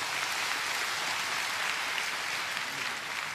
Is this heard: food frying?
no